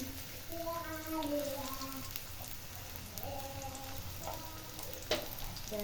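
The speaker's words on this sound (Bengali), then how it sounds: "পেস্টটা হালকা করে একটু ভেজে নেব বেশি ভাজবো না" Spice paste sizzles lightly in hot oil while cooking biryani, a steady soft crackle running throughout, with a faint voice or tones drifting in the background and one sharp clink near the end.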